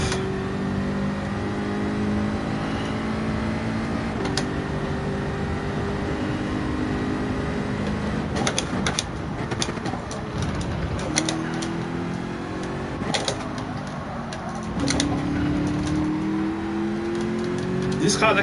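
A race car engine circling Suzuka in a sim racing game, a continuous whining drone that rises and falls through gear shifts, with sharp clicks and a commentator talking over it throughout.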